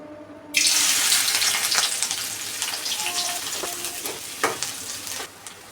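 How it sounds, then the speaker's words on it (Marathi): A sudden loud sizzle as finely chopped onion hits medium-hot oil, crackling steadily and slowly settling, with a few clinks of a utensil. "तेल मिडियम असं तापवलं त्यामध्ये बारीक चिरलेला एक मिडियम साईजचा कांदा टाकला"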